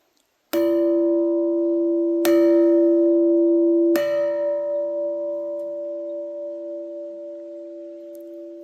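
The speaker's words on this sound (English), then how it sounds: "you want to ring the bell, Ayya?" A bell rung three times, roughly 1.7 seconds apart, each stroke loud and clear, with the pure ringing tone sustaining and slowly decaying after the last strike; no talking.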